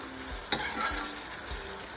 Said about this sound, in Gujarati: ફુલાનું શાક આપણે વઘારી દીધું છે